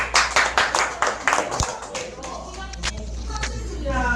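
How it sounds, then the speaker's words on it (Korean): Applause from a small group at a civil-service exam prep academy gathering, a brisk run of individual claps in the first two seconds thinning to sporadic taps, with a voice beginning near the end. "박수"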